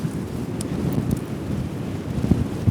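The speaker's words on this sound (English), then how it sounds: "As we get around the bend, we're going to get into the wind." Wind gusts across a sandy beach and buffets the microphone, a rough low rumble that swells and dips with a few sharp thumps, with no talk heard.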